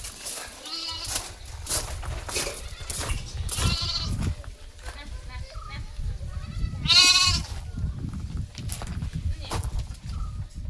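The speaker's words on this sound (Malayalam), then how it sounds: "ഒരു ചെമ്മരി പെടക്കുട്ടി നല്ല കുട്ടിയാണ്." Young ewe lamb of about three months, a sheep on sale at a Manjeri livestock market, bleats loudly once mid-clip among other goat and sheep bleats, with background talk and farm noise throughout.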